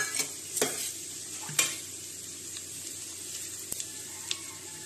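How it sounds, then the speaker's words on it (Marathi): Bay leaves, cinnamon, cumin and other whole spices sizzling in hot oil in a pan, a faint steady crackle with a few sharp clinks and scrapes of stirring, close. "तमालपत्र आणि खडे मसाले टाकले."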